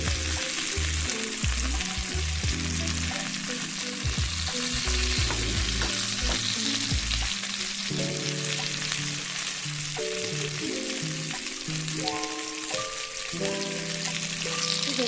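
Fish fries on a tawa with a continuous close sizzle and crackle, while low tonal background music or hum plays underneath throughout.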